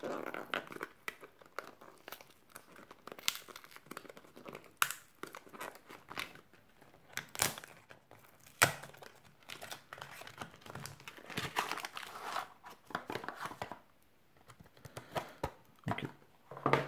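Close, crisp crinkling and tearing of foil as a Dragon Ball Cross World booster pack is opened, in bursts of rustling over several seconds, with occasional speech between them.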